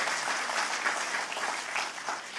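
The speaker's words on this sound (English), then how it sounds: "Give them another round of applause." Audience at a Bible college graduation ceremony claps in a steady, even wash of applause from start to finish, moderately loud and with no voices over it.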